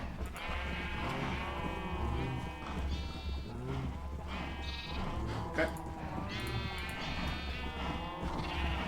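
A flock of sheep bleats continuously in a Minecraft-style survival world, many overlapping calls near and far over a steady low hum, with someone talking quietly underneath.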